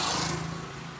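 A motorcycle engine roars close by on a street in Bebedouro, Brazil, and then fades slightly as it moves away, a loud continuous rumble.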